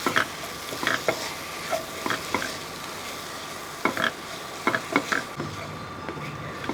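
Tomato being stirred in a frying pan for a sardine pollichathu dish: a steady run of spatula scrapes and knocks sits over a soft, continuous sizzle, fairly close, with no talking.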